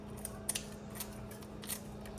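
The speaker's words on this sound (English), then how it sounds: "I like using scissors just to make it real fine, like bacon bits." Several quick, close snips from scissors cutting cooked egg, at an uneven pace over a steady low hum.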